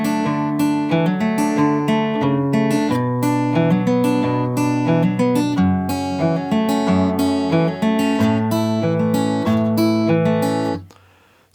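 Acoustic guitar plays the verse of "West Texas in My Eye" by The Panhandlers, a steady fingerpicked chord pattern with a clear bass line, close and even, ending on a sustained chord.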